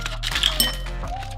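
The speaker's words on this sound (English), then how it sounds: "I'm still waiting for one of these ice cubes to come down." Ice cubes drop from an Icebreaker Nordic ice machine with a few light clinks and thunks over a steady low motor hum.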